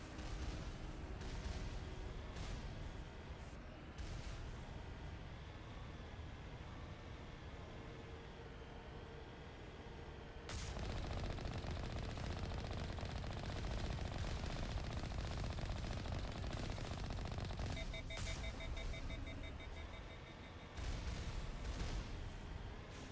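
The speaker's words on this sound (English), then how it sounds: "I feel like missiles are being shot at me, but I wasn't able to shoot back at those turrets." Sustained turret gunfire and missile fire from the Mass Effect video game, dense and continuous throughout with a heavier burst midway, no talking.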